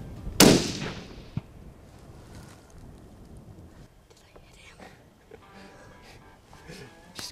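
A single sharp rifle shot cracks out during a pronghorn buck hunt, loud and close at first, then fades into quiet outdoor ambience with faint murmuring voices afterward.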